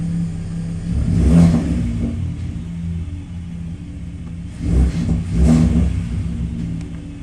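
A 2021 Ford F-150 Raptor's V6 engine revs twice with exhaust valves open, a deep, throaty exhaust rumble swelling loud then easing back to a steady idle between bursts.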